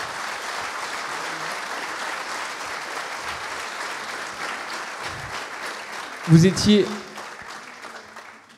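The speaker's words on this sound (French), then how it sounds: "On peut applaudir" Sustained audience clapping at a jubilee celebration, dense and steady for most of the clip, with a brief voice cutting in near the end as it fades.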